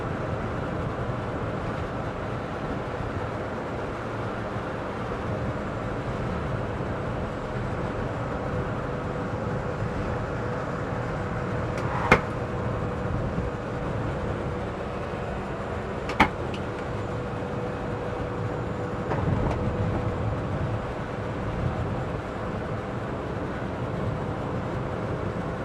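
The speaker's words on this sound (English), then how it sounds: "You're getting a bit of wind noise now," Steady broadband rush of wind and road noise inside a moving 2022 Citroen Ami electric car in bad weather, constant and fairly loud, with a couple of brief clicks partway through.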